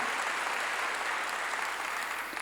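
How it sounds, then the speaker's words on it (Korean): A church congregation applauds in worship, a steady, dense wash of clapping that holds evenly throughout at moderate loudness. "박수로 하나님께 영광을 돌려야 된다"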